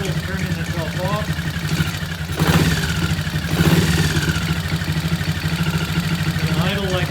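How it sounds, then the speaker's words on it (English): A motorcycle engine idles steadily and slowly, close by, with a faint swell of revs partway through while someone talks over it. "It'll idle like that very nicely for a while."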